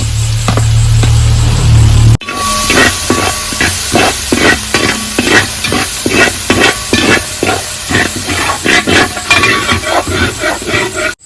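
Ginger-garlic paste and crushed green chili frying with coconut for Kerala chicken peratt, a loud sizzle that bursts in after a short lead-in and is punctuated by regular scraping strokes of a spatula in the pan.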